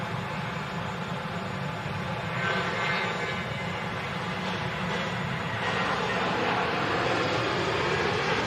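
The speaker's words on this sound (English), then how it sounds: "Yeah, the Turkish now on the takeoff roll." A Turkish Airlines A321neo jet roars steadily on its takeoff roll at Manchester Airport, a broad continuous engine rumble and hiss heard from a distance, unbroken for the whole stretch.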